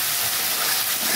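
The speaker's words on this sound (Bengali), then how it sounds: "দেবো আদা হাফ চামচের মতন দিয়ে ভালো করে মশলাটা কষিয়ে নেব," Garlic and ginger masala sautéing in a pan gives a continuous close hiss and sizzle, fairly loud and unbroken.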